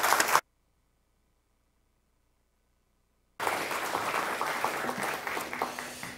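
Audience applause fills the hall at a Concordia University of Edmonton State of the University Address, welcoming the university president after a brief silence; sustained, dense clapping, fairly loud and steady.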